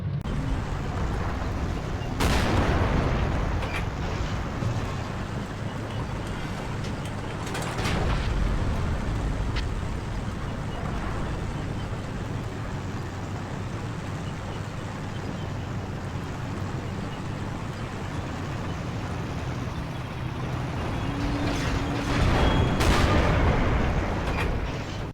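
Ferdinand tank destroyer driving in the video game Forgotten Hope 2, a steady low engine rumble and track clatter broken by several loud booming cannon shots, no talk.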